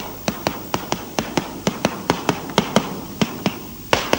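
Sharp, regular taps of a hammer on hard cheese wheels in a cheese store in Emilia-Romagna, Italy, checking for air bubbles, about sixteen evenly spaced knocks, close and clear with a brief pause near the end.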